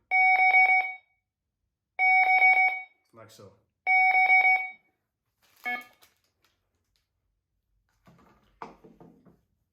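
A Fox RX+ fishing bite alarm sounds in three sustained tonal beeps, evenly spaced, with brief clicks and a few spoken words between them, close and clear.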